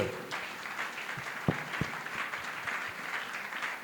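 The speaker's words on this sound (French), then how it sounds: "Clap for the Lord." Church congregation applauding during a worship service, a steady wash of many hands clapping together, moderately loud and continuous for a few seconds, with a couple of sharper thumps standing out.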